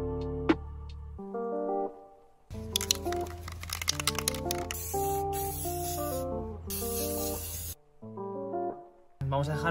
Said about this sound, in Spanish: Ya hemos cogido el spray de pintura blanca y vamos a ver cómo si sale esta vez.